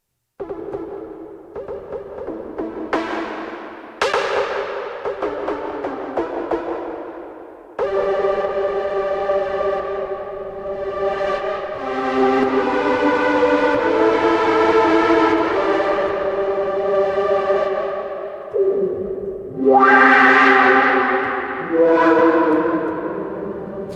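Sustained synth pad chords from a Novation Circuit Rhythm washed through its reverb effect, swelling and overlapping in long, loud, wailing tones with reverb tails, no talking.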